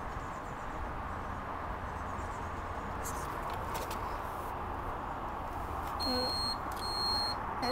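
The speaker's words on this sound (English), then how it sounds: "It starts flashing, beeping." A Zanussi appliance, likely a washing machine with a fault, gives a short run of high electronic beeps near the end, over a steady noisy hum.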